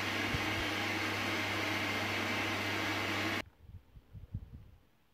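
A stand mixer whisks egg whites for meringue, a steady loud mechanical whir with a low motor hum that cuts off abruptly partway through, leaving quieter scattered clatter and faint sounds.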